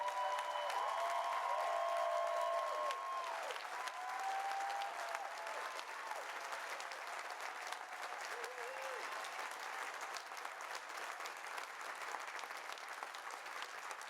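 Large crowd applause at Yale College Class Day 2015, a dense, sustained wash of clapping filling the space, heard from a distance with a faint tonal hum in the background.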